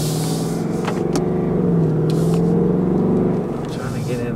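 A 2018 Ford Mustang GT in sport mode rumbles as it accelerates, its engine note rising steadily and then easing off, heard from inside the car with a voice over it.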